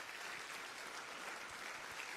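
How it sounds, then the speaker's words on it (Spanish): Steady, even clapping from a church congregation fills the space, a dense, continuous wash of hands at moderate distance with no voices standing out. "un fuerte aplauso"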